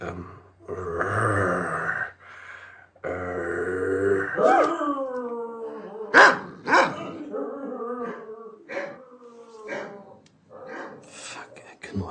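A voice imitating a dog's growl, producing drawn-out guttural rumbles and grunting, whining tones in uneven bursts, loud and close, with short pauses between efforts.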